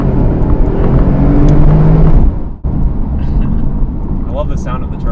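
A turbocharged supercar engine accelerates hard, heard from inside the car as a loud, continuous roar that dips briefly at a gear change and then builds again, with people talking over it.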